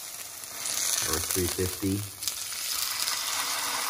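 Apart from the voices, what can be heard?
patty frying and sizzling in a pan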